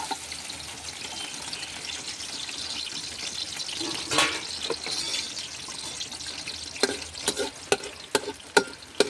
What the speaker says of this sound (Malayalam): നമ്മൾ തേങ്ങ ആ എണ്ണയിൽ വറുത്ത് മാറ്റി വയ്ക്കുകയാണ്.